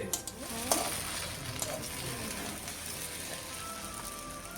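Onion and turmeric frying in white vegetable oil, a soft continuous sizzle with a few light clinks of a spoon near the start, close but quiet, no talk.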